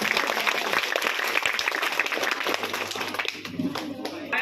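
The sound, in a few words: audience applause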